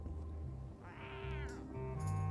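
A cat in Return to Monkey Island gives a wavering, drawn-out meow in the middle, then a shorter cry after it. Both sit over a steady low musical drone and ambient game sound.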